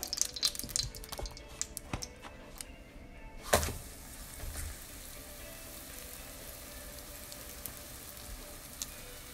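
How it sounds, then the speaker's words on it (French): Butter sizzling in a preheated frying pan over medium heat, a soft steady crackle and hiss running throughout with a louder burst of spattering near the start, no voices. "Je vais mettre une cuillère de beurre"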